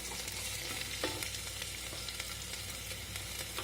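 Vegetables with chopped green chili fry in a pan with a steady, fairly quiet sizzle and a faint stir partway through, no voices.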